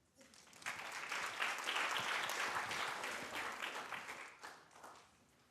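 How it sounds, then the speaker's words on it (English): Attendees at a commission meeting applaud volunteers, a moderate round of clapping that swells quickly, holds, then tapers off. "So how about a round of applause for them?"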